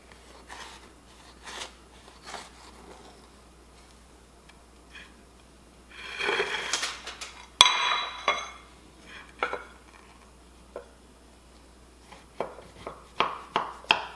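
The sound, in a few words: cutting a slice of jam quick bread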